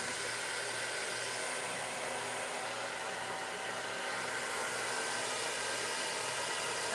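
A continuous broadband whoosh of a blow dryer running steadily, fairly quiet and even, with a faint low hum underneath.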